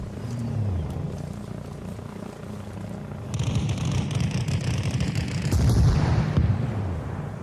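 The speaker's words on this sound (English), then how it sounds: "Gunship coming in. Gonna strafe the west side of the long barn." A gunship in the ARMA Reforger video game makes a strafing run, as a low rumble swells into dense, rapid thudding fire that peaks and then tails off.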